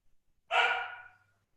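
A dog gives a single short, sharp bark, close and moderately loud, that trails off quickly into silence.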